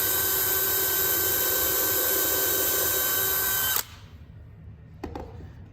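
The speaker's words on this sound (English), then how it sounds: "I'm gonna hold that in place, drill my hole." A power drill whines at high speed for several seconds while drilling a hole in a planter build, then stops abruptly, followed by a couple of faint clicks and handling noises.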